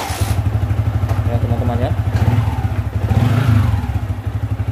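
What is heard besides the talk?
kick-starting a Yamaha Vixion motorcycle engine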